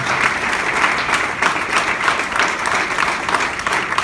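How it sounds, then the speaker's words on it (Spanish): A church congregation applauds, dense and sustained clapping from many hands filling the room at an even level from start to finish. "Un aplauso fuerte para el Señor Jesús"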